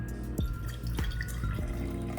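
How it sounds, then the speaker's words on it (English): Liquid dirt water is poured into a plant propagation jar holding a ZZ plant cutting, giving a few distinct drips and splashes over a steady close trickling background. "So this is some liquid dirt water. I'm just gonna add it in there."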